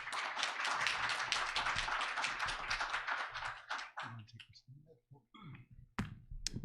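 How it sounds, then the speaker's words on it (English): A round of applause from the attendees at a school board meeting, a dense burst of clapping that thins into scattered claps, with a few quiet voices under it at the end. "If you would all just give them a round of applause."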